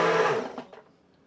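A hand blender whirs through a pot of broccoli and cheese soup, one close, loud burst that cuts off and trails into a few faint clinks and settling noises.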